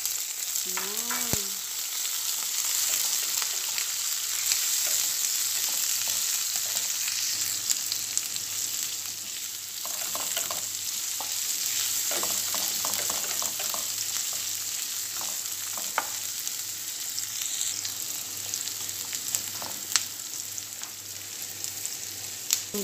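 Onion sizzles in hot oil with garlic already golden in the pan, a steady close frying hiss throughout, broken by faint stirring clinks and a few soft scrapes.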